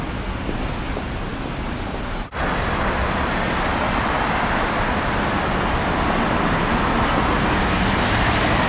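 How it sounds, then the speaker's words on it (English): A steady roar of road traffic fills a busy Seoul street as cars pass in a continuous stream, with a short dip in the noise about a quarter of the way in. "Cars and cars and cars."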